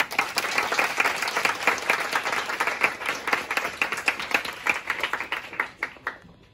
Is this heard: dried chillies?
no